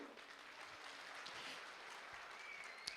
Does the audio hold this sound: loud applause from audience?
yes